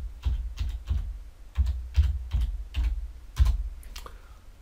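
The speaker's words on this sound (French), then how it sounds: "je vais taper Outlook.com" Keys clack on a computer keyboard as a web address is typed, about a dozen distinct close taps in an uneven rhythm, with no talking.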